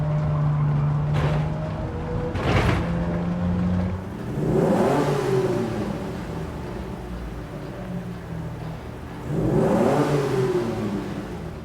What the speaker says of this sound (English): hearing the 3D sounds from my favorite car of all time, the Aston Martin DB5